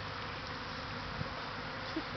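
Honeybees buzzing around a hive, a steady close swarm drone holding even throughout, with no talk.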